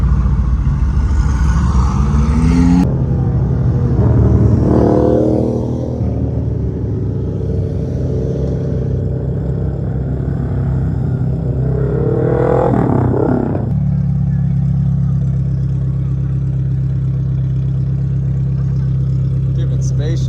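A Mercedes-AMG GT R pulling up at a car meet, its engine rumbling nearby with a brief rev early on, then settling into a steady low idle as people talk over it.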